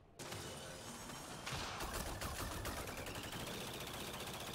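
Rapid automatic gunfire from a gun in the video game Mass Effect Andromeda, a steady stream of faint, quick shots running for several seconds without a break.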